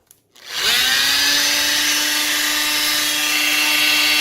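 After a brief quiet moment, a Makita power tool spins up and runs at a steady high-pitched whine, its motor hum holding constant and close for several seconds with no talking.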